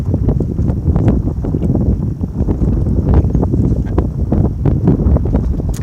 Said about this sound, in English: Wow, the wind's really picking up all of a sudden.